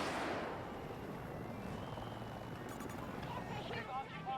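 Mi-24 Super Hind attack helicopter in a video game, a steady rotor and engine roar running throughout, fairly loud and close, with a faint beeping tone near the end.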